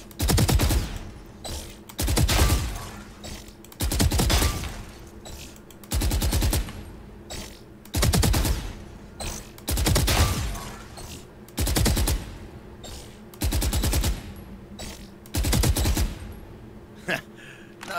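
Gunfire in the Valorant tutorial: repeated bursts of rapid shots roughly every two seconds, loud and close, with a voice talking at times between them.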